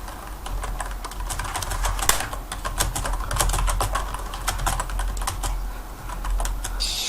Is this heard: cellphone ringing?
no